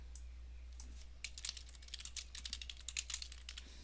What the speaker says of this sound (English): I typed in a new file name, press enter on the keyboard